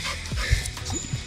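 A small dog yips and whimpers close by in a few short, excited bursts over a steady background hiss, with faint voices nearby.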